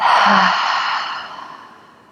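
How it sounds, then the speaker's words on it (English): A long, breathy exhale through the mouth during a guided yoga breathing exercise, loud at first and then trailing off gradually over about two seconds, heard alone. "Inhale in through the nose. Big exhale through the mouth."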